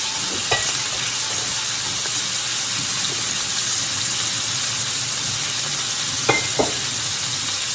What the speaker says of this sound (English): I'll let you listen to that sizzle while I wash this out.